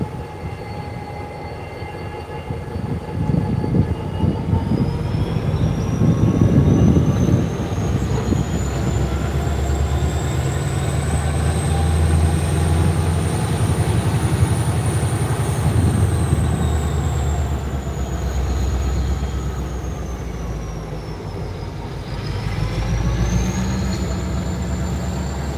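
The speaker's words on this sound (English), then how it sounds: "That locomotive you are watching is an automated switcher." Unmanned automated switcher locomotive moving rail cars through the DeButts classification yard in Chattanooga, Tennessee: a continuous rumble of rolling wagons with long, high wheel squeals rising and falling throughout, heard from trackside at moderate distance.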